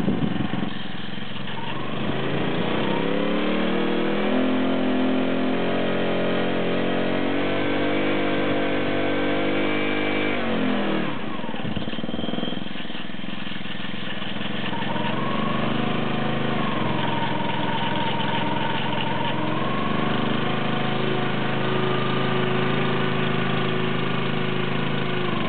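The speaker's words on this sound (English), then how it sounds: "So we're going to throttle up, throttle down, right brake, left brake, and then we're going to use the safety switch to kill it." A university team's rover engine revving up and down during a demo run: a loud, steady mid-pitched motor drone that rises, holds and falls, with a brief lull in the middle, and no talk.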